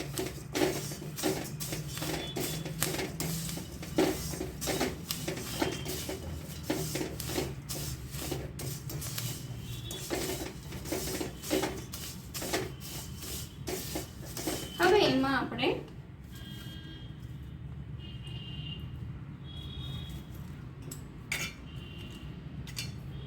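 Thick poha chevda, a Gujarati snack of flattened rice, is mixed in a bowl with salt, giving a steady dry rustling and rubbing with rapid scraping strokes that stop midway, followed by quieter background noise.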